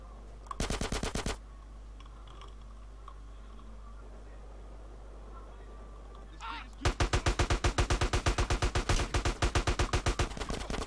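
Rapid automatic gunfire from the game MTA: a short burst near the start, then a long sustained volley of evenly spaced shots in the second half, loud and close with quiet game ambience between.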